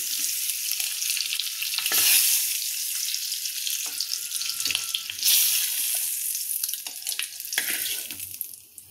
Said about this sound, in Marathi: आता ही अंडी मी या रश्श्यात सोडते